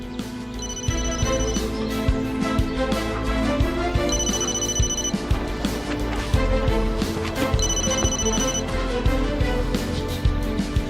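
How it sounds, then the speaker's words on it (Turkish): A mobile phone rings in a village house in a Turkish TV drama. The bright repeating ringtone sounds in three even bursts over steady background music. "Telefon buradan bir yerden çalıyor."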